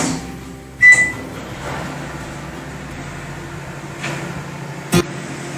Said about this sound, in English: Place your mug in the middle of the microwave and cook for